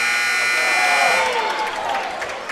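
A loud, sustained buzzer ends a period at a high school wrestling triangular, blaring for about a second over crowd cheering that continues after it stops.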